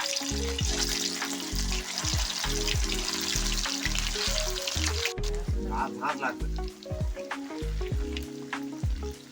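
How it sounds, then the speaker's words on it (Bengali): Rohu fish balls fry in hot oil over a lowered gas flame, a steady close sizzle running the whole time beneath background music with stepped tones. "তেলটা গরম হয়ে গেছে, এবার গ্যাসটা একটু কম আঁচ করে দেব, দিয়ে মাছের বলগুলো দেবো।"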